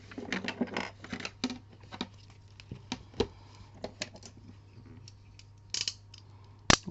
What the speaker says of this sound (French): Donc là, je recoupe un petit peu le surplus qu'il peut y avoir sur le côté